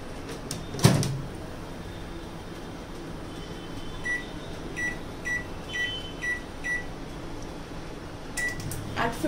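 Oven used for baking eggless snowball cookies: a loud clunk near the start, then a run of evenly spaced faint beeps, with another knock at the end.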